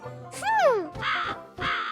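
A cartoon crow caws loudly three times, close and harsh, with a brief pause between calls; the caws sound exaggerated, like a cartoon sound effect.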